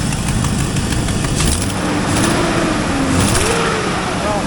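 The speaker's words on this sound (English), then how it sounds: "This bad boy's got an exhaust leak like most of these things" A 2002 Chevy Silverado 2500HD's 6.0L LQ4 V8 idles loud and close with a steady rumble and an exhaust leak, while someone talks over it.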